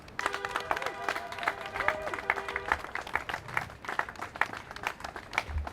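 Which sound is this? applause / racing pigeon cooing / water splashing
applause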